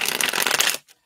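A deck of playing cards riffled in one quick shuffle, a loud, close, fluttering burst lasting under a second and then stopping sharply, with a faint tap after.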